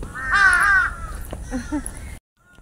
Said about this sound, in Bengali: দেখেন কত সুন্দর চারপাশে কাক ডাকতেছে